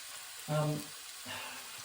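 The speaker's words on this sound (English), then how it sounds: "Oh, there's a little sizzle there." Onions frying in a pan on a stove, a soft steady sizzle with a brief louder burst of crackle, faint and close.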